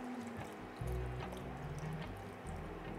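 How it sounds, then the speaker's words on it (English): A dash of water is poured into a pot of vegetarian mushroom miso soup, giving soft liquid splashing and gurgling filling sounds over a low background hum, close and fairly quiet. "I would top it up with just a dash of water"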